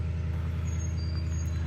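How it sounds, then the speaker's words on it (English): A truck engine idles at a distance in the early morning outdoors, a steady low rumble with a faint thin whine above it. "I'm sure you can hear my truck running over there in the background"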